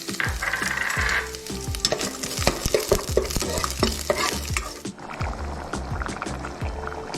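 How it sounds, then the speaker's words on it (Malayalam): Coconut sizzling in hot coconut oil while a utensil stirs and scrapes the pan in quick, repeated strokes, loud and close. "ഇനി ഇതിലേക്ക് നമുക്ക് കുറച്ച് തേങ്ങ കുറച്ച് വറുത്തെടുക്കാം"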